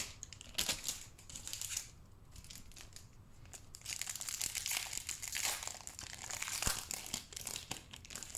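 Pokémon card booster pack wrapper being opened by hand, with continuous close crinkling and tearing of foil plastic, steady and fairly faint, with no talk.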